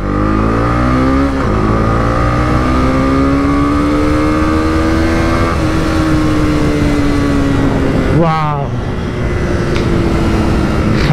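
A 2022 Honda CB300R, a 300cc single-cylinder motorcycle, accelerates hard in second gear with a steadily rising, loud, close engine note, then a quick gear change and the revs climb again, with no talk.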